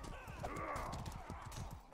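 A horse gallops in the medieval combat video game Mordhau, with steady rapid hoofbeats and a whinny over busy battle noise.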